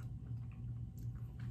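Soft, close chewing of slightly undercooked, crisp potato with skin on, served as jjajang rice, a few faint crunchy bites over low background hum.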